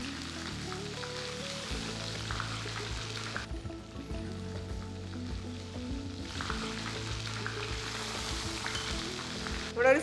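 Chicken pieces deep-frying two at a time in a pan for crispy fried chicken, giving a steady, dense sizzle and bubbling that holds throughout, close and fairly loud, with no talk.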